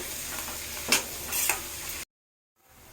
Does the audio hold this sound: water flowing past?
no